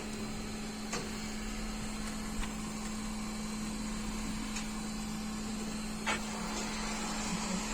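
A hot air rework station blows onto a fluxed SMD chip on an Asus AMD X570 motherboard, giving a steady airy hiss over a constant electrical hum, broken by a few faint ticks.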